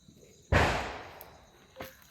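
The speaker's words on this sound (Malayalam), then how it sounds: "നിങ്ങൾക്ക് പടക്കം പൊട്ടിക്കുന്ന കേൾക്കുന്നുണ്ട് കേട്ടോ" A single sharp New Year's Eve firecracker bang bursts out with a long fading tail, then a smaller pop follows a moment later, heard at a distance.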